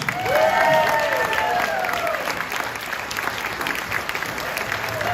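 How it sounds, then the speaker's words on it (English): A comedy club crowd breaks into loud applause with cheering and whoops as a comedian is welcomed to the stage. The clapping is steady and full throughout, with excited voices rising over it at the start. "So now let's give her a great round of applause to welcome our own funny lady, Joey Sims."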